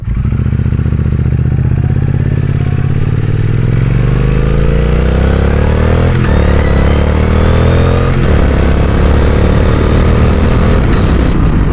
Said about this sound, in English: now all that's left to do is take the bike for a spin.